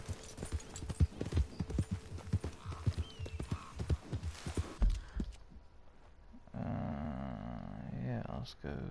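In the video game Red Dead Redemption 2, horse hooves clip-clop in a quick, close rhythm for about five seconds. A steadier tonal game sound follows.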